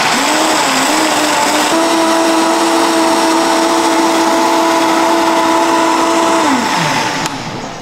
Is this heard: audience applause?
no